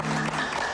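Audience applause for a singer during a television interview, a short steady burst of clapping filling the moment with a faint voice underneath.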